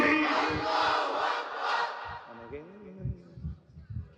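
A large crowd at a religious sermon gathering shouts a takbir slogan in unison, a loud massed roar that fades out, followed by rhythmic thumping and scattered softer voices.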